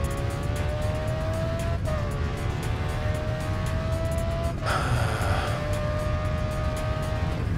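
A heavily damaged race car in the video game GRID Autosport drones steadily at high revs, with the engine pitch dropping at two gear shifts and a brief scuff of tire noise.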